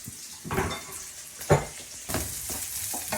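Onions sautéing in a home kitchen pan, a steady frying sizzle broken by stirring scrapes and a sharp clatter of a utensil against the pan, close and fairly loud.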